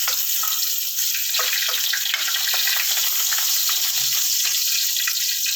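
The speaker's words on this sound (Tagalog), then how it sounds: "gisa na natin ang ating adobo" Chicken adobo with garlic sautéing in a pan, a bright, steady hiss and sizzle with light crackles, continuous and fairly loud, with no talking.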